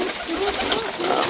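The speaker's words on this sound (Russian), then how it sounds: "Можно голубеночка выпустить просто." A young pigeon at a pigeon-keeping loft in the settlement of Novoekonomicheskoe in November, with soft cooing and bird calls close by and steady outdoor air noise throughout.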